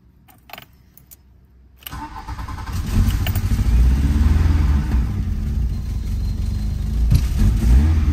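A car engine with a freshly fitted replacement coil stays silent for a couple of seconds, then cranks and fires, settling into a loud, steady running idle close by with slight unevenness.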